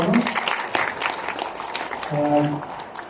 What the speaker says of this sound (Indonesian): terima kasih tepuk tangan kita untuk Prof